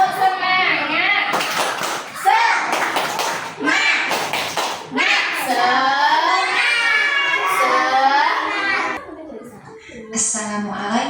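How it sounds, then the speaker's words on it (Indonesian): Young children in a classroom perform a rhythmic spirit clap, sharp clusters of claps alternating with loud chanting and shouting voices, close and lively, with a teacher's voice joining in. "Tepuk semangat."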